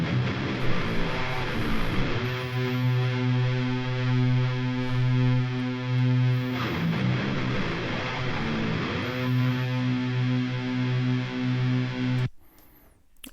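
A heavily distorted electric guitar through a Line 6 Helix holds thick, buzzing power chords with a couple of chord changes, then stops abruptly.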